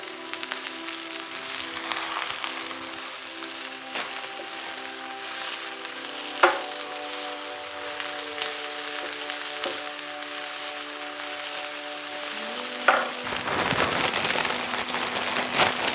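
Spinach wilts in a saucepan while cooking for a vegan spanakopita, giving off a soft, steady sizzle with faint crackles, along with a few clinks and scraping stirs of a utensil against the pan.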